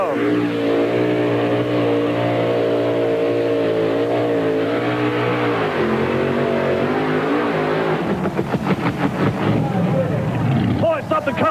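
A 1991 Ford two-wheel drive pulling truck at an NTPA pull in Chapel Hill, Tennessee, its engine roaring loud and sustained, then sputtering into rapid choppy bursts near the end as it starts to misfire, with an announcer talking over it.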